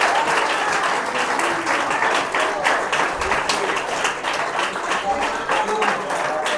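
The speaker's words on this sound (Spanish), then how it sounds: "Dele el aplauso al que lo merece." A church congregation applauding at an anniversary service, a dense, sustained wave of clapping that carries on steadily, with voices mixed in beneath it.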